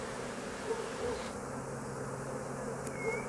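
A dense, steady drone of many honeybees buzzing together up close during a honey harvest, continuous and unbroken, with no talking.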